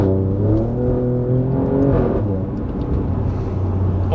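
Alfa Romeo Giulia Quadrifoglio V6 revving hard around 3,500 RPM in dynamic mode, a loud, close, sustained engine growl with rising and falling pitch and a throaty low grunt throughout.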